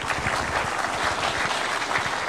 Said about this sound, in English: If we can give a round of applause, please.